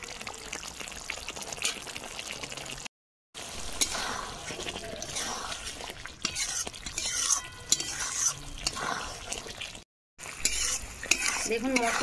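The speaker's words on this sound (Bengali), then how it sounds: "দেখুন মশলা কষানো হয়ে গেছে" A spoon scrapes and stirs spice paste with ground poppy seed and cashew paste as it fries in a pan for a spicy soybean omelette curry, with a soft steady sizzle, irregular stirring strokes and two brief silent cuts.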